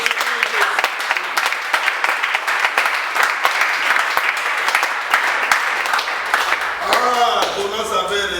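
A church congregation applauds during a French-language sermon, a sharp, loud clapping that runs throughout, with a voice breaking in near the end.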